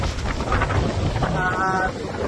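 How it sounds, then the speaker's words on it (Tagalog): Strong gusting wind buffets the microphone over the rumble of waves, with a voice faintly heard underneath. "napakalakas ng hangin at napakalakas ng alon"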